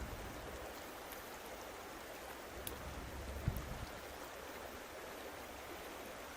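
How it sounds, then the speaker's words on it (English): Gentle flowing stream water near a bush campsite gives a steady, faint, even rush with no talk. A tiny knock sounds partway through. "that water behind me is so tranquil sounding. It's literally like I'm camped out by a waterfall or by a babbling brook"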